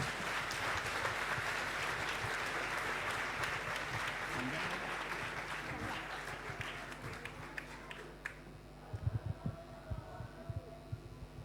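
An audience at an amateur Marathi play staged by a community group in Singapore applauds the performers with sustained clapping that tapers off, followed by a few isolated thumps and a low hum.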